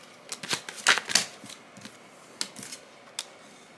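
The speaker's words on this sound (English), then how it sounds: "These cards are flying." Tarot cards are shuffled by hand in irregular bursts of crisp flicks and riffles, several quick close snaps clustered early and a few scattered single slaps later, in a quiet room.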